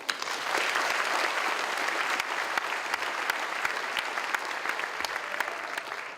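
Sustained applause from a commencement audience fills the space, a dense steady wash of many hands clapping with a few sharper individual claps standing out, holding constant throughout with no voices over it.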